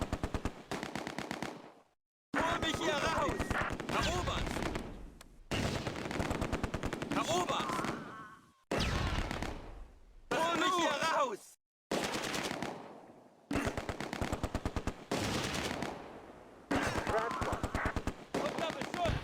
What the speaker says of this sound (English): The Vickers open fire from their new positions.